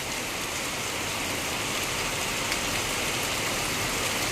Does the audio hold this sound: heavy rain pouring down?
yes